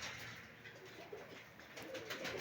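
Poultry birds in moult, sorted into hens and cocks, coo softly and steadily at a farm pen during an evening check, faint and fairly close amid low background noise.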